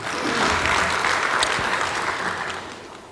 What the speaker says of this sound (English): Another round of applause for all of our staff.